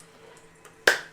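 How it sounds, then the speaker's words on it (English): A book shuts with a single sharp, slapping snap near the end, fairly close and crisp against a quiet indoor room. "That's the sound of a book closing"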